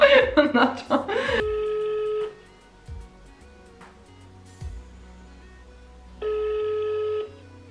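An Italian phone call: a telephone rings twice, each time a loud sustained tone lasting about a second, with talking and other clatter at the start and quieter stretches between the rings.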